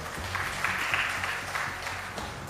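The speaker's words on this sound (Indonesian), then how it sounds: "Tepuk tangan untuk beliau." Brief, moderately quiet clapping from an audience at an official inauguration ceremony in Badung, Bali, swelling slightly and then thinning out over a couple of seconds.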